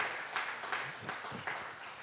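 Church congregation applauding together, a fairly quiet and short burst of clapping with a few louder swells and a faint voice beneath.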